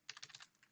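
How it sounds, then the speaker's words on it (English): A short, quiet burst of keystrokes on a computer keyboard, about eight quick taps in an even rhythm, heard close and alone with no talk. "we just type 255 on all parameters"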